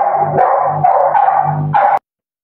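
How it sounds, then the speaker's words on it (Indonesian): A dog barks and yips in a few quick, close, fairly loud bursts before falling suddenly silent. "Bang Dalbo pelihara guguk kayaknya Bang Dalbo. Ada guguknya dari tadi"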